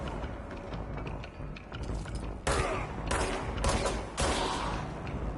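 Gunfire in the video game Control: several loud bursts of shots over a steady dense background, arriving in separate clusters through the middle and end.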